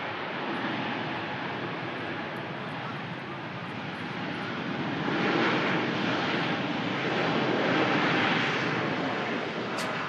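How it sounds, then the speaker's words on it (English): An Air Transat Airbus A321neo arriving from Toronto gives a steady, broad jet roar that swells and eases over ten seconds, fairly loud with no voices over it. "Is this an Air Transat coming in? Airbus A321 Neo."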